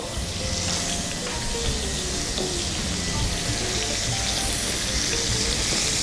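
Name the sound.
onions frying in a pan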